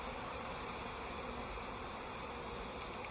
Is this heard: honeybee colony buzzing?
yes